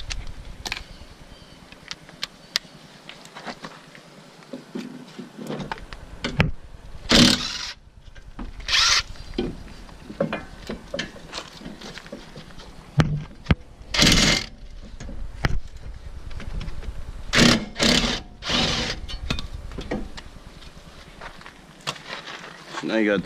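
Removing the two 17 mm brake caliper bracket bolts on a Honda S2000 with a power tool: short, sharp mechanical bursts at irregular intervals, several loud whirring runs over a quieter garage background.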